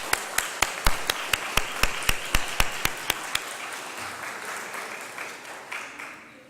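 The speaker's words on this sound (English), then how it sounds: "I do want to give a round of applause for our graduates who are all seated here up at the front." A small audience at a mayor's press conference for a Unite Here graduation claps for graduates seated at the front, starting with a dozen or so sharp, separate claps that blur into a steadier patter of applause that fades away.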